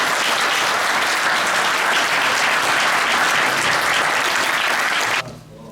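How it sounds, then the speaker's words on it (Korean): An audience at a Buddhist forum applauds to welcome a lecturer on national security, a dense, steady wash of clapping for about five seconds that cuts off abruptly. "큰 박수로 맞이해주시면 감사하겠습니다."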